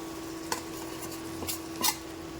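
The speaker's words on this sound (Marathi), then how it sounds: "आता त्या कंडिशनला आपण हे सगळं खिमा टाकून देऊया" Minced kheema tipped into a pan of softened onion and tomato for gavar kheema, a few soft clinks and a brief scrape of utensil against pan over a faint steady hum, no talking.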